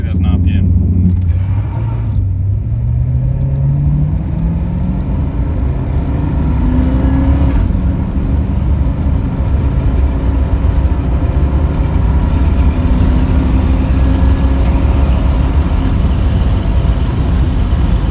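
A Holden HX Monaro limited edition coupe held on stall at about 2,000 RPM, its engine droning loud and close as the tyres spin, with someone talking over the steady rumble.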